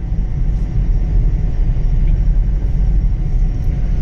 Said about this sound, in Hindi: इंजन के साउंड की बात करें दोस्तों तो इंजन की साउंड आपको काफी कैबिन में महसूस होगी